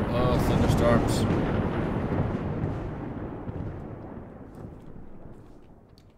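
A rolling thunderclap in Life Is Feudal: Forest Village, a loud rumble that starts strong and slowly fades away over several seconds, heard alone.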